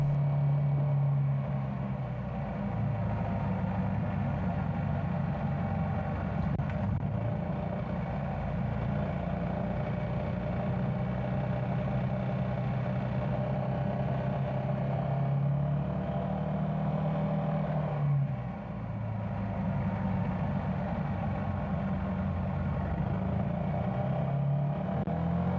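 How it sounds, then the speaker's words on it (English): Engine of a Yamaha Tricity three-wheeled scooter while riding on a road, a steady droning hum with slight pitch shifts as speed changes, continuous and moderately loud, with no talking. "Driving the Yamaha Tricity is fun and easy"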